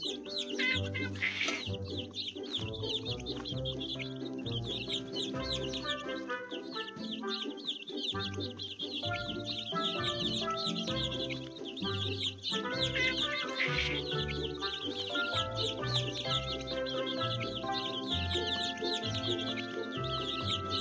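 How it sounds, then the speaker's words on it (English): Baby birds in a children's learning game chirp and cluck continuously over bouncy cartoon music, their squeaky calls layered densely throughout. "Let's feed the hungry baby birds with some seeds."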